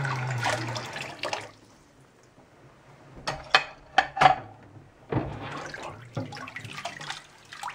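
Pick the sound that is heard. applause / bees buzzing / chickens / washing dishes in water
washing dishes in water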